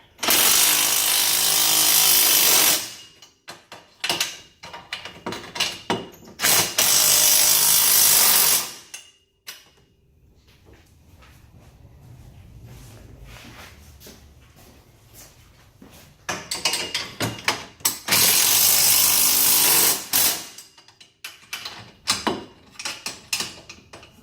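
A 15 mm socket and 17 mm wrench tighten the mount bolts of a back-half roll cage. Loud bursts of mechanical whirring and ratcheting come up close, separated by quieter stretches of clanks and creaks, with no talk.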